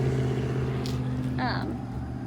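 A car passes along a road beside someone checking a young turtle, its steady engine hum close and loud under a person talking.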